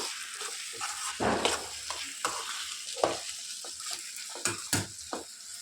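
Onions seasoned with turmeric and salt fry in a pan with a steady close sizzle, broken by frequent stirring scrapes and light clinks of a utensil against the pan.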